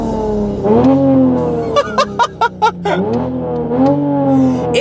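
A 2020 Toyota Supra engine cranks and fires, settling into a steady idle broken by a quick series of sharp throttle blips, then rising once more; loud and close with no talk over it.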